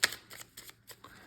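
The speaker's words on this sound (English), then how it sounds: "I'm going to shuffle up the deck for the beginning of the game" A deck of playing cards is shuffled up close, giving several quick crisp riffling bursts in a rapid rhythm, quiet and alone without talk.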